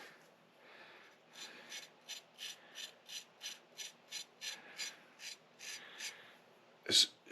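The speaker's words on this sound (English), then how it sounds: "as you are sharpening this." A fillet knife drawn through a Work Sharp Ken Onion edition powered sharpener, giving a regular series of about a dozen short raspy grinding passes, close and moderately loud, followed by a sharper scrape near the end.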